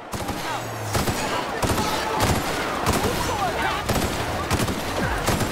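Gunfire in The Outer Worlds during a prison break: repeated loud, rapid bursts of shots, close and punchy, with short gaps between volleys.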